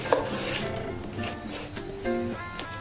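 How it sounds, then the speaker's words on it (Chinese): Pan-fried peanut layered flatbread is cut into pieces, a knife giving a few soft thuds and scrapes against the board, close and moderately quiet over a faint background tone. "取出来切块就可以食用了"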